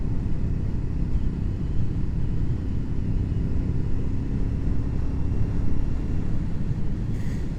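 A motorcycle with a 2-into-1 exhaust pulls away and accelerates to about 40, a steady low engine rumble heard close and continuous throughout.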